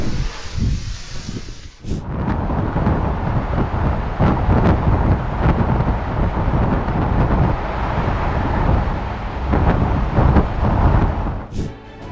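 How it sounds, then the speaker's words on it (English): Violent storm with wind in Guangdong, China: loud, continuous roaring wind noise with heavy rushing and buffeting for about ten seconds, broken by sharp cracks at the start and end, though no clear thunder stands out. "A violent storm in Guangdong, China turned a simple commute into a brutal struggle."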